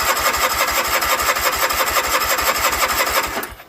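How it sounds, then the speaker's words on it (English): A Kohler Command small engine runs with no oil in an endurance test, loud and close, with a fast even chugging pulse that cuts out sharply near the end. "see how long this engine will hold up"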